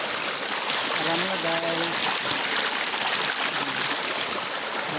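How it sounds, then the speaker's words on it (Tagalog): River water of the Laya River in Candulawan, Talisay City, Cebu, runs in a loud, continuous rushing hiss, close by, while someone speaks briefly over it. "Tubig mga guys."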